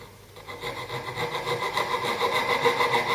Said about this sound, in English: just rest my coping saw there and just cut across very finely and just take off that extra millimetre